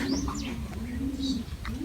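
Racing pigeons coo at the loft, several soft throaty calls repeating close by over a steady background hum, with a brief chirp now and then.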